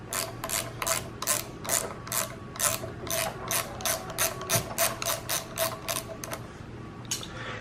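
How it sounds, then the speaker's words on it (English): A socket ratchet with a 10mm socket clicks in a long, steady run of close, crisp bursts at an even rhythm while loosening a bolt, with no talk. "I'm going to take my socket and put it on the bottom because there's more room for the socket"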